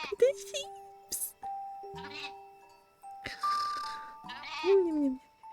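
Cartoonish sheep bleat in the cozy game Hanako's Flower Shop, wavering calls repeating among chimes and game jingles while a person talks over them.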